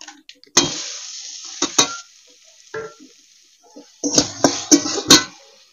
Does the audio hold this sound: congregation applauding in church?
no